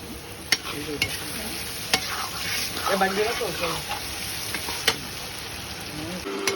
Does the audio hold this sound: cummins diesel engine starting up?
no